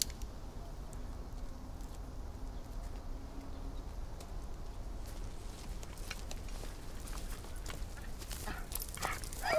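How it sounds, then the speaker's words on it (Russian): A dog barks in a wartime forest setting near a border, the barks fairly distant and partly buried in a constant rustling, rushing background with scattered thumps and patters. "Собаку слышали, думали немцы."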